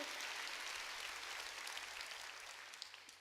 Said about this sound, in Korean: 박수로 하나님께 영광을 돌려